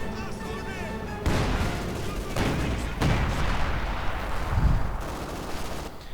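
Gunfire from an anti-tank gun and field guns in a World War II real-time strategy match involving a Sturmpanzer IV and Panzer squads: sharp loud reports and booms break out repeatedly over a steady battle din, with a commentator speaking throughout.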